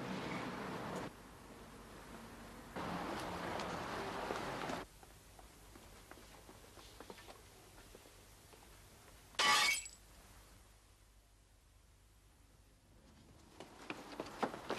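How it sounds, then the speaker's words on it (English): A pane of glass in a house door smashed, heard as one short, bright crash of breaking glass amid long quiet stretches with faint rustling before and after. "She disturbed three young men who'd smashed a pane of glass in her door"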